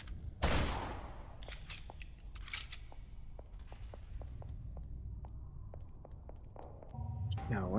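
A modded gun in Dead Island fires a string of sharp shots, first a loud burst and then a rapid series of regular cracks, with game sounds and a voice talking underneath.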